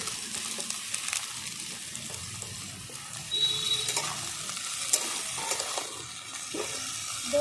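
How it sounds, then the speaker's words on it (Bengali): Potatoes go into a pan of fried onion and garlic, giving a steady, moderate sizzle with intermittent stirring scrapes and a slight watery hiss throughout, with no voices. "পেঁয়াজটা ভালো করে ভেজে নিয়েছি রসুনও দেখো ভালো করে ভাজা হয়ে গেছে সব দিয়ে দিচ্ছি আলু"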